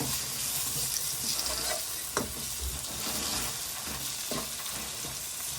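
Green chillies and curry leaves sizzle and crackle steadily in hot oil in a pan while being stirred, with occasional utensil scrapes, close and continuous with no talk, as part of making koththu roti.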